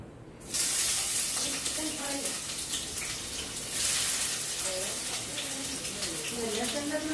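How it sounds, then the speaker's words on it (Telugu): Chopped onions dropped into heated oil for a restaurant-style fish gravy sizzle and hiss steadily and loudly after a brief quiet start, a dense frying crackle with a voice talking over it. "ఆనియన్స్ అయితే నేను ఫ్రై చేస్తున్నా"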